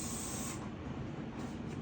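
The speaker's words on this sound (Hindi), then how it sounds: "अब ये बाल जोड़ रहे हैं, हेयर स्प्रे किया" Hair spray from an aerosol can misted onto styled open curls, a short close hiss that fades after about half a second, followed by quieter spray bursts.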